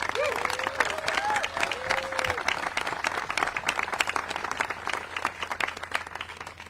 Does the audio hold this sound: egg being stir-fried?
no